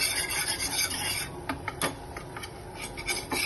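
A flour and butter roux for mac and cheese being stirred in a pan, close rasping scrapes of a utensil against the bottom in a steady rhythm, without talking.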